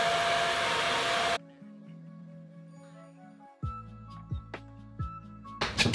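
A heat gun blows a steady, loud rushing hiss onto a dented plastic car bumper for about a second, then cuts off, leaving quieter clicks and tones before a short hiss returns at the end.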